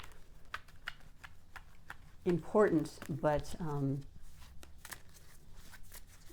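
Tarot cards being shuffled with repeated soft, quick riffling flicks through the clip, close by, while a person speaks briefly in the middle.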